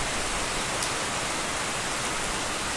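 Heavy rain pours down in a dense, steady hiss close by, continuous and even throughout with no voices.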